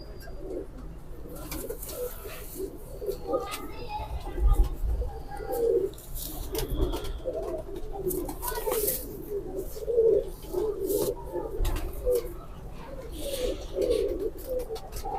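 Pigeons coo nearby in soft, repeated low burbling calls while a female pigeon is handled, with rustling and handling noises and someone talking at times.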